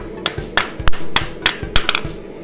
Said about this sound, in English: I do have a real ball peen, which obviously you can see I'm using right now